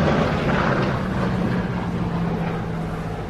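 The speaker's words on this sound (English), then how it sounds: "a wonderful throaty radial engine like this" A Chance Vought F4U-5NL Corsair with a radial engine flies past at an air display in Jersey, a loud throaty roar that sweeps by and slowly fades.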